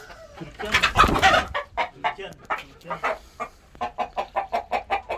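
Ornamental chickens and a Viandotte rooster cluck close by, starting with a loud burst of squawking, then a rapid, evenly spaced series of clucks.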